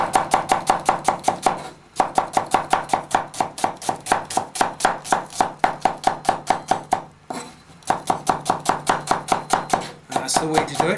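A knife chops an onion into thin slices on a cutting board, with rapid, steady, close-up blade strikes in quick bursts and short pauses between them.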